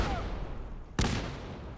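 A single sharp Gauss rifle shot in the video game Fallout 4 during a battle at Bunker Hill; one loud crack with a short tail over steady background noise.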